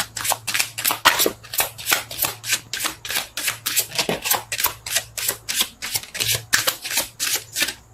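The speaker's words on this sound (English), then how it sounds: "Shuffle." Tarot cards being shuffled by hand in a quick, regular rhythm of crisp riffling bursts, close and clear, with a faint low hum underneath.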